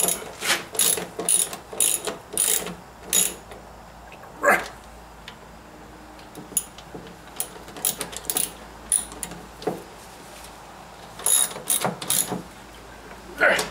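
Ratchet wrench clicking in repeated short bursts while screwing down an ATV radiator into its black cradle, close and crisp, with pauses between runs of pawl clicks.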